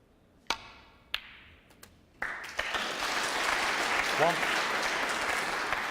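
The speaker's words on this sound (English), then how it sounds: "there's a lot of applause in the front few rows where all Ding's fans are sitting" Snooker crowd at the 2011 UK Championship clapping from the front rows, beginning with a few isolated claps and building into sustained applause after about two seconds.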